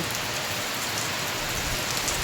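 Heavy rain in Malaysia after a spell of hot weather, a dense, loud, unbroken downpour hissing steadily on surfaces, with no voices.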